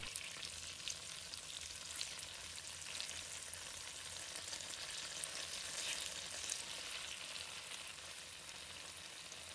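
Tofu pan-frying in a wok, turned over once the base has set and browned golden, gives a steady, continuous crackling sizzle at even loudness with no speech.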